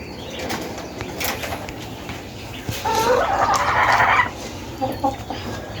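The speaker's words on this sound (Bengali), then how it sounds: "এই যে মোরগ" A rooster clucks nearby in a short burst of throaty, repeated clucks, amid light scuffling and rustling.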